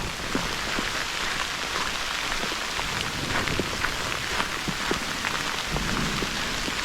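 Steady rain during a winter thunderstorm, a dense even hiss of drops pattering on surfaces with scattered louder splashes, continuous and fairly close with no voices.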